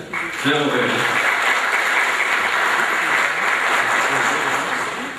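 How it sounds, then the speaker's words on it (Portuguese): Sustained clapping fills the room at a public hearing on a water utility. A voice speaks briefly at the start before the applause builds to a steady, dense wash. "Uma salva de palmas para ele."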